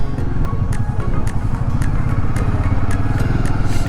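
A motorcycle engine thrums with a rapid, even pulse while riding a narrow mountain road in Spiti, close and fairly loud, with a faint ticking clatter over the top.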